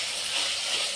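Tomatoes hit a hot frying pan for a soybean pulao, giving a steady close sizzling hiss that lasts about a second with no voices.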